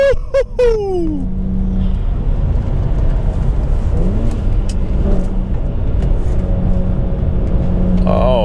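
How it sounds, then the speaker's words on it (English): A BMW E82 135i with a twin-turbo 3-liter engine drives along, a steady loud interior rumble and road drone that runs throughout, with faint voices briefly at the start. "We're driving another BMW, baby. This time, E82 135i, twin turbo 3 liter."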